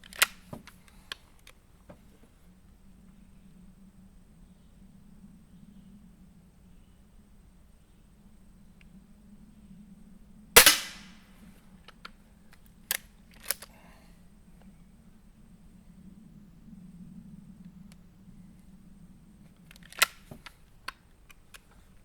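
A Hatsan Model 25 Supertact air rifle is cocked and fired, giving one sharp, loud crack midway, with scattered mechanical clicks and clacks before and after against a quiet outdoor hum.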